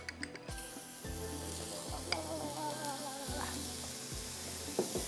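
Butter and about a tablespoon of oil sizzle in a hot sizzler pan, giving a soft constant hiss and crackle with a few faint metallic knocks at low volume and no speech.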